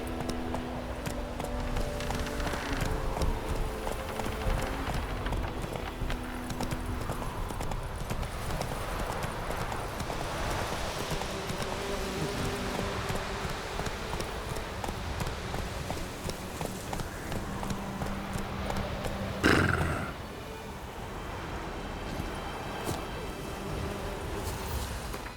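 Roach the horse trots in The Witcher 3, with hooves clip-clopping in a steady, close, continuous rhythm throughout, then a brief heavier thud before the hoofbeats continue.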